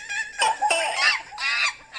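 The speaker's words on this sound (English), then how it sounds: "the sound of those monkeys, iguanas, and ducks creating chaos in Light Talk Central" Sound-effect chaos of animal calls, monkeys, iguanas and ducks, heard as loud, close, overlapping squawking and clucking cries in several rapid bursts with no talk.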